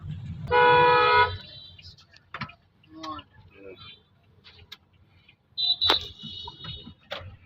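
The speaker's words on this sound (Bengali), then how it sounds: "ওই পাশে দেখতে পাচ্ছেন অনেক জ্যাম, তবে আমাদের রাস্তায় অনেক জ্যাম ছিল" Car horns honk in a jammed city street: one long blaring honk, then scattered shorter toots and a second loud honk later, among traffic rumble and clatter.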